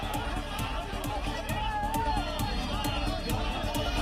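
A street crowd of Hindu organisation protesters is pushed back by police in Siliguri, a continuous rumble of chatter and shouting with scattered hurried footsteps and knocks, moderately distant and busy throughout.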